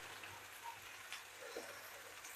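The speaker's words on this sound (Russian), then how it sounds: "Вот и вода наша закипела." Soft, steady bubbling and light crackling of water coming to a boil in a pot, faint and continuous with scattered small pops.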